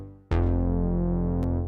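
A synth bass patch called Touareg Moon Bass in Alchemy enters sharply with a single sustained note that holds steady and clear, a small click-like accent appearing near the end.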